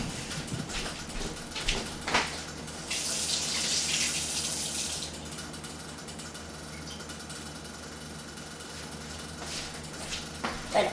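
A kitchen tap runs water into a sink, a steady close splashing stream that swells for a few seconds in the middle, with small knocks and handling noises around it.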